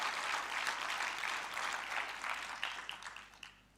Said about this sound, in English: A Cathsseta round of applause for Professor Putti,